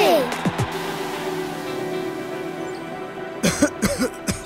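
A child gives a throaty cough at the start, then a quick burst of several harsh coughs near the end, close and loud over a steady background hum.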